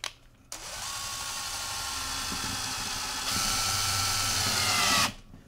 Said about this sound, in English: and then I'm gonna just start drilling down.